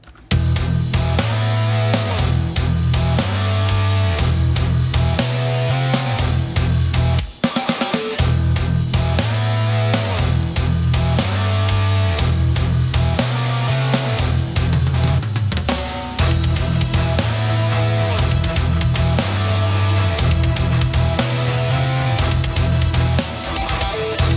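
Heavy distorted metal guitars chug in a driving rhythm alongside full orchestral layers, loud and dense throughout with a brief drop near the middle.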